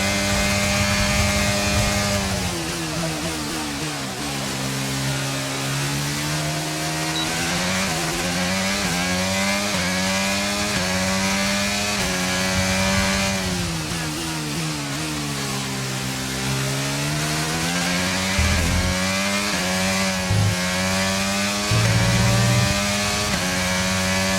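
Formula 1 car engine in the F1 23 racing game, a continuous loud high-pitched whine with rising and falling pitch sweeps through gear shifts and corners, steady throughout with no talk.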